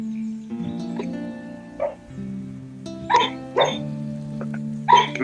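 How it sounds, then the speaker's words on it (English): A sleeping dog makes short, snuffling yelps and huffs while dreaming, several brief bursts scattered over a steady low tonal background, close by and fairly quiet. "Can you hear my dog like"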